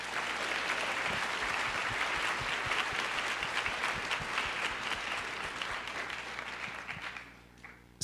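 An audience claps steadily for several seconds, a dense wash of applause that fades out toward the end.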